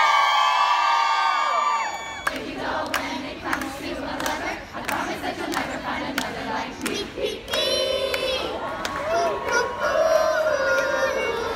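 A studio audience of Taylor Swift fans at a Good Morning America broadcast bursts into loud cheers, whoops and clapping after a sudden start, with excited shouts and voices over the noise.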